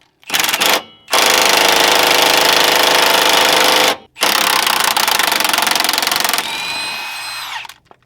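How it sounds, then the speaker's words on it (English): An impact gun hammers loudly at close range on a sway bar end link bolt of a BRZ/FRS/86 during an end link install, firing in long bursts with brief pauses, then ending in a whining spin-down, with no voices. "So when I was using the impact gun, it started to spin, right?"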